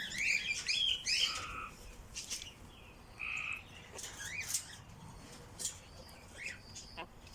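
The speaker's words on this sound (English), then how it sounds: "Hear the frogs." Spring peeper frogs call outdoors near a garden bird aviary in spring, with scattered high chirps and peeps mixed with bird calls, fairly faint and distant.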